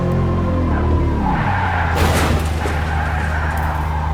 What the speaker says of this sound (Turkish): Ama yalnız araba var ya efsane hızlanıyor.